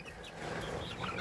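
Backyard chicken flock: soft, low clucks and murmuring calls from several hens, fairly quiet and continuous with a slightly sharper cluck near the end, no talking.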